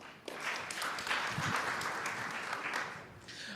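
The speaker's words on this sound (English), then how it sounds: "So let's give them a round of applause as I sit down." A conference audience at a digital health forum applauds steadily for several seconds, a dense even wash of clapping heard from a distance in a large room.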